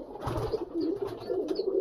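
Old domestic pigeons kept in pairs in a loft in Bagnan, West Bengal, cooing softly in short, low, throaty bursts nearby, with faint flutters and no talking.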